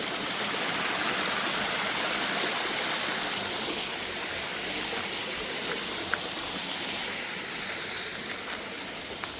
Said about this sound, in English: A little creek that runs down.